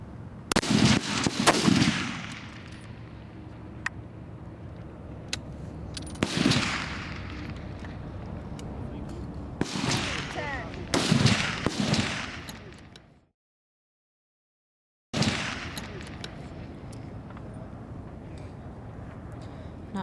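F-Class rifles firing at a 1000-yard range, repeated sharp cracks from several shooters with short echoing tails, loud and close, separated by brief gaps, while people talk between shots.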